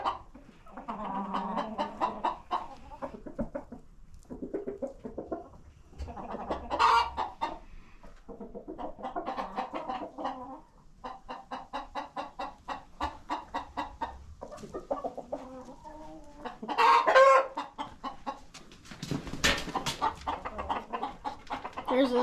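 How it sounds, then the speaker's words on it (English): Buff Brahma rooster and a flock of homestead chickens clucking indoors, repeated close bursts of throaty clucks and squawks in uneven rhythm, with a couple of louder calls mixed in. "He's our buff Brahma rooster."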